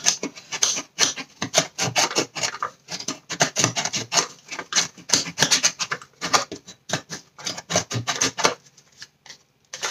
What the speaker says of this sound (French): Et là, on gratte